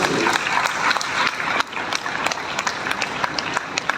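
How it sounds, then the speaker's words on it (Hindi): A crowd at a Gandhi Jayanti ceremony with NCC cadets claps, a dense, uneven patter of many hands with sharper individual claps standing out, fairly loud and close. "जरा जोरदार तालियां सर।"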